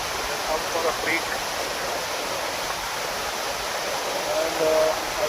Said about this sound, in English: I cross this mighty waterfall